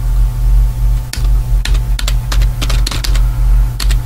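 Computer keyboard typing, clusters of sharp, close key clicks coming in irregular bursts over a steady low electrical hum.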